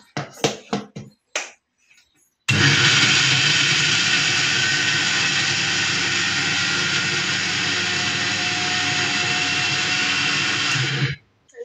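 An electric mixer grinder runs loud and steady for about nine seconds while grinding a peanut ladoo mixture with jaggery and cardamom powder, after a few sharp clicks at the start, then stops.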